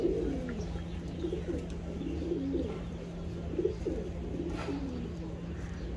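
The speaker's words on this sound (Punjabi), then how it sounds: "ਬੜਾ ਮਜ਼ਾ ਆਉਂਦਾ ਕਬੂਤਰ ਦੇਖਣ ਦਾ" Pigeons kept as flying birds coo in a loft, with low, soft, rolling calls that repeat throughout. A steady low hum runs underneath.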